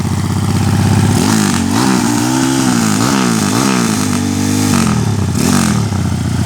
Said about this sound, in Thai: ฟังเสียงท่อ